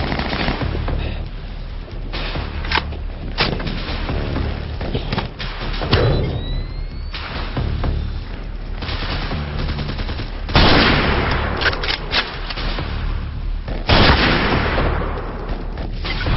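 Dense video game gunfire from a tactical shooter round: rapid automatic bursts and heavy shots rattle continuously for about sixteen seconds, loud and close, with a few louder volleys and no clear talk.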